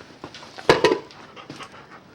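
A pet dog pants in quick, close bursts at home around feeding time, with one sharper huffing breath standing out amid softer rhythmic panting and faint whimpery breaths.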